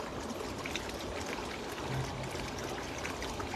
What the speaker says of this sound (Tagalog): Ganda ng dam ngayon kapsat oh. Ang lakas ng agos ngayon.